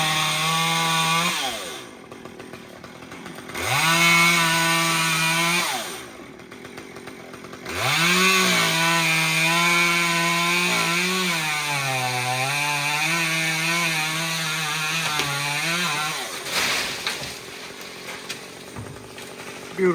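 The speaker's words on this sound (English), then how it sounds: "he's just cutting all that obnoxious branches and crap that gets in the way" A chainsaw cuts branches from a dead tree supporting a treehouse, with loud revving bursts rising and falling, separated by short idle pauses, then a trailing rough cutting noise near the end.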